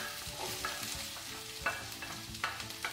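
Onions sautéing in hot oil for a veg puffs filling, a continuous close sizzle broken by a few sharp scraping stirs.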